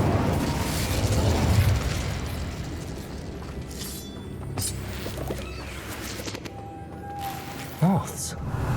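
A fire spell cast in a fantasy wizarding game bursts out in a few sharp pops amid dense game effects and ambient rumble, with one distinct brighter burst near the end.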